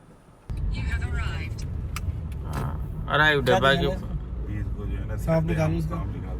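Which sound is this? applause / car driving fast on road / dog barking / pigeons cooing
car driving fast on road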